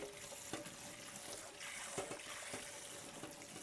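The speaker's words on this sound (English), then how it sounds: "We're going to get these bad boys rinsed off real good." Tap water running into a kitchen sink while food is rinsed, a steady close splashing stream broken by clatters and knocks of handling, moderately quiet, no talking.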